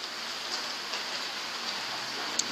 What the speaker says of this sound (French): En même temps, il pleut.